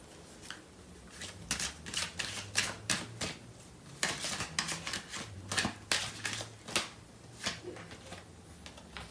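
Tarot cards are shuffled in a run of quick, crisp riffles and flicks, close and fairly quiet, coming in irregular bursts with no voice.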